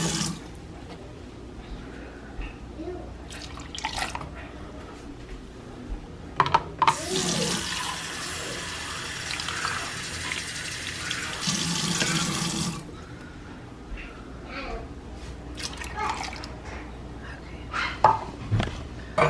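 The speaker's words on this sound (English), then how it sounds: "I think I'm probably going to add about 3 cups of water to this one." Tap water runs for about six seconds into a pot of black beans during kitchen batch cooking, loud and steady between quieter clinks and handling sounds before and after.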